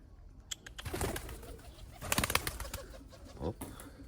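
Pigeons coo during a courtship display, with soft, throaty coos repeating in uneven bursts at close range, plus faint rustling between calls.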